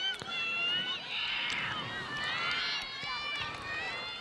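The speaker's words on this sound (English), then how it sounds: "Looks like the crowd are getting a bit lively here." A crowd at a girls' varsity soccer match cheers and shouts from a distance, excited voices and whistles rising and falling under nearby talking.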